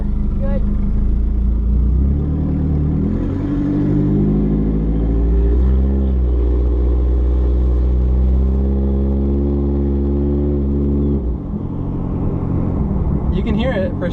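An unlikely race car's engine revs during a test drive, a loud low rumble swelling and holding steady for several seconds before dropping back, with brief talk from people nearby.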